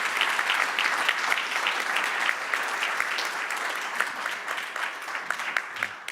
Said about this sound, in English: I would like to ask to applaud our 5 speakers